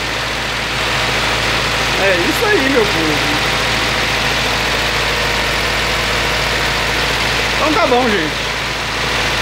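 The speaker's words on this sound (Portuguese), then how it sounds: "Vocês queriam ver o carro funcionando?" A rebuilt Ford Del Rey engine idles on its first start, a steady mid-pitched rumble running throughout while someone talks over it close by.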